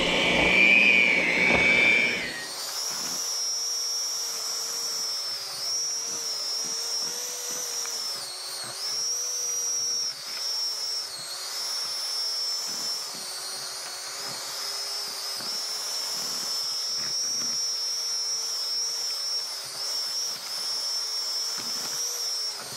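An electric mixer beats zucchini bread batter with a steady, high-pitched motor whine that runs close and continuous after a brief louder start, with no talking.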